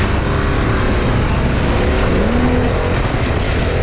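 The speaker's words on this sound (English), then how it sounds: "there's that quick hard blip on that throttle" A 2022 Harley-Davidson Pan America motorcycle engine revs hard on a demo ride among other bikes, a loud continuous roar with a rising pitch sweep midway, wind rushing throughout.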